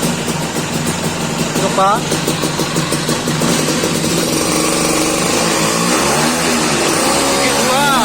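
A Vespa scooter engine on a dyno, loud and close, revving hard with rising pitch sweeps as it climbs through the gears, while a person speaks briefly over it.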